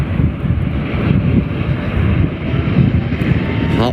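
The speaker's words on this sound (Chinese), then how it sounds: "目前正在助跑起飞" A large airliner rolls down the runway for takeoff at a Guangzhou airport, its engines giving a loud, continuous low roar mixed with wind buffeting the microphone.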